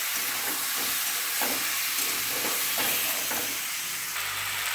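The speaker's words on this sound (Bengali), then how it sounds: "মশলা দিয়ে আমি একটু কষবো।" Spice masala is stir-fried in a pan, a loud continuous sizzle and hiss broken by repeated scraping strokes of a spatula at an irregular rhythm, close up with no talking.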